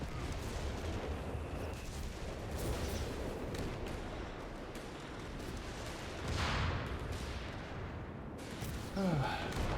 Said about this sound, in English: Here comes another bombing run.